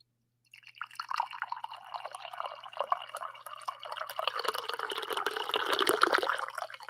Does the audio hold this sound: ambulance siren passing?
no